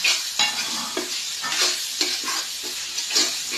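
Holy basil tossed with chili and garlic in a hot wok, a constant loud sizzle punctuated by regular scraping strokes of the spatula, heard up close with no voices.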